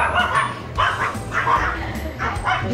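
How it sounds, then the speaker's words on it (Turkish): Stray dogs in Bulgaria bark in short repeated yips and bow-wows at close range, roughly four bursts in under three seconds, with some whimpering mixed in. "Eser Bulgaristan'da vahşi köpeklerin yanına gidiyor."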